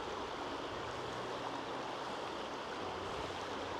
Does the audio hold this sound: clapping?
no